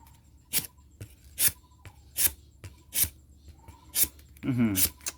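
Sharp scraping strokes of a saw-toothed blade tapping the bark of a rubber tree, about six evenly spaced, with a brief voice near the end.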